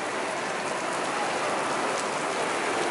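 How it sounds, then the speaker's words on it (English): Heavy rain in or near Andorra falls in a dense, constant roar of hiss that is loud and unbroken, with no voices. "look guys, how much is raining, it's crazy"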